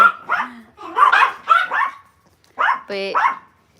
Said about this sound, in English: There's like a dog over there.